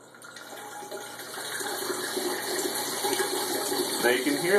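Beer wort pours through a wine aerator into a pail fitted with a spigot, a steady rushing, gurgling flow of liquid that builds in loudness and stays continuous, close by, with air being drawn through.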